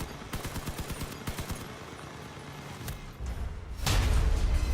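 Rapid bursts of machine gun fire in the vehicle combat game Crossout, a quick rattling volley followed by scattered shots and a louder blast, heard alone without speech.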